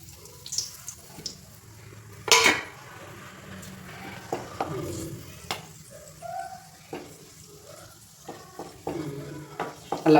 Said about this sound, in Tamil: நல்லா பொரியுது.